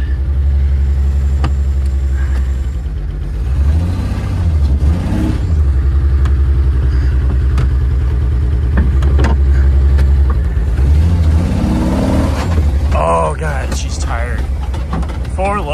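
A car engine revs hard and steadily with the vehicle frozen into the ground after off-road wheeling, rising and falling in pitch over a constant low rumble, with mechanical clatter and people talking nearby.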